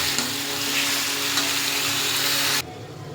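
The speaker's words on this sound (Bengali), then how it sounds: "এবার সুন্দর করে মাংসটাকে এখানে এইভাবেই কষিয়ে দেবো আর কি।" Mutton frying and being stirred in a pan for a thin mutton curry, a loud, dense, close sizzle that carries on steadily and then cuts off abruptly near the end.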